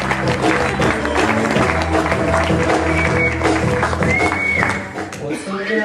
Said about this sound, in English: Everybody put your hands together.